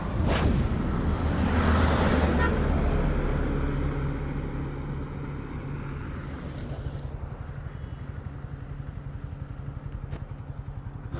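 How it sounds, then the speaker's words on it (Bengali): A motorcycle engine braking down from about 80 km/h: a steady engine drone under heavy wind rush that gradually eases as the bike slows, with no talking. "এখন আমি ঠিক এই জায়গা থেকে বাইক ব্রেক করব ইঞ্জিন ব্রেকিং করব"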